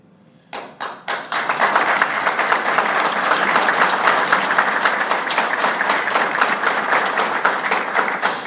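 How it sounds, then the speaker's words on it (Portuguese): An audience at a lecture honouring the Visconde de Guarapuava breaks into applause: a few separate claps first, then a swelling wall of steady, dense clapping that holds strongly to the end. "São palmas merecidas"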